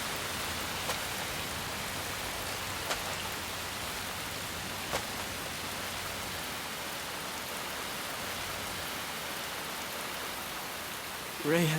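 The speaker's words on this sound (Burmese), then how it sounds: "ဒီချိန်မှာပဲမိုးရွာချလာပါတယ်" Steady rain pours in an anime scene, a dense, even hiss lasting throughout with a few faint isolated ticks, ending with a brief voice at the very end.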